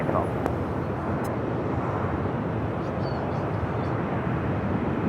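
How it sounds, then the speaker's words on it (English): An American Airlines A321 jet takes off at LAX, a broad, steady roar heard from a distance with a faint voice over it. "Next takeoff, heading to Boston. American Airlines Flight 1632. It's an A321 with American."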